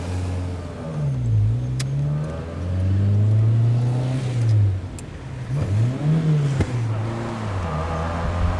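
A Fiat 101 hatchback, a version of the Fiat 128, revs its engine nearby, pitch rising and falling in repeated swells. Its gearshifting is faulty.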